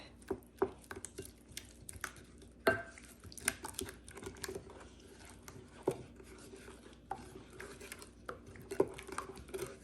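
A utensil stirs a creamy cucumber salad with salt and paprika in a bowl, giving irregular close clinks and scrapes against the sides over a quiet room, with no voices.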